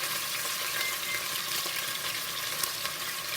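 Pot roast sears in oil in a pot, giving a constant close sizzle and crackle that holds steady and loud throughout, with no voices.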